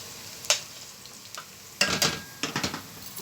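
Garlic sizzles in hot oil in a pan for an Egyptian koshari sauce, a quiet sizzle broken by sharp stirring scrapes and crackling bursts, with no talk.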